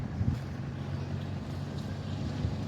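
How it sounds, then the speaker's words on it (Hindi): Wind blows steadily at a barrage, a continuous low rushing roar with buffeting against the microphone and no talk. "हवा चल रही है पूर्व से पश्चिम की ओर।"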